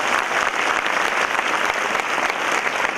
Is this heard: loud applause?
yes